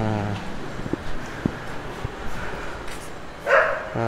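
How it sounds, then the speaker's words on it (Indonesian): A few short dog barks and yips at a distance amid outdoor background noise in a New Delhi residential neighborhood, with a louder burst near the end. "itu ada anjing menggonggong"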